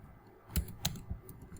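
Someone types on a computer keyboard in quick, soft clicks. A few sharper keystrokes stand out against a quiet background, and no one speaks.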